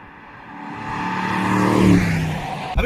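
A BMW M850i V8 engine builds in a steady rising roar as the car accelerates past on a winding road, peaking near the end before cutting off, with no talk.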